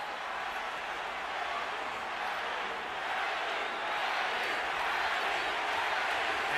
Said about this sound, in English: the crowd picks up the chant